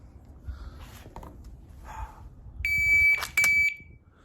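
Two loud electronic shot-timer beeps, a long steady tone then a second shorter one, sound during dry fire pistol practice, following faint handling noises and soft clicks in a quiet room.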